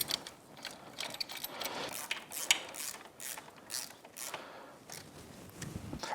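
Bolts are fitted and threaded on the head bracket of a Yamaha YFZ450R engine, giving quiet close metallic clicks and ratcheting turns in short irregular bursts.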